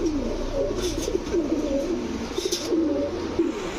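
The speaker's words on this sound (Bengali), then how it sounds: "এটা একটা পাকিস্তানি গোল্ডেন মাদি কবুতর" Pigeons coo in a steady low murmur at a pigeon market, where a Pakistani golden hen pigeon is on show among other birds. The soft, continuous cooing runs throughout with no talking.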